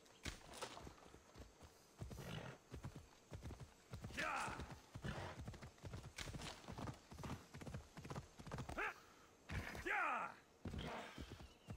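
Horse hooves in the video game Assassin's Creed Odyssey, clip-clopping in uneven bursts of close, crisp strikes, with brief whinny-like squeals and a gap of silence in between.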